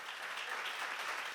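A congregation at a church seminar claps in a soft, even patter that sounds distant and faint and carries on throughout.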